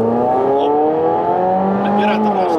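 A Mazda Axela drives along a fairly good road with minor joints, its engine humming steadily with layered, gradually rising tones heard from inside the car.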